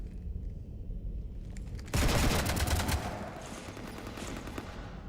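Automatic gunfire in the game Mass Effect, a burst of rapid rattling shots aimed at a ship, starting abruptly after a low ambient rumble and tapering into a fainter, echoing spray.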